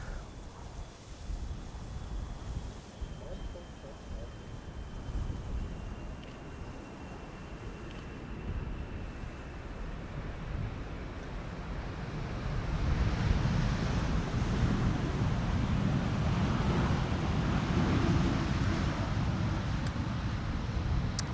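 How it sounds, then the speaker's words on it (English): Strong, gusty wind roars across an open runway at Amsterdam Schiphol's Polderbaan 18R, a steady broadband rush that swells louder and heavier around the midpoint and keeps building, with no voices. "The wind is not slowing down. It feels like it is picking up."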